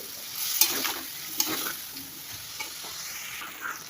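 Powdered spices being sautéed and stirred in a pan with a little water, a steady sizzle with scraping strokes of a spatula and a couple of sharper knocks, close and moderately loud, no voices.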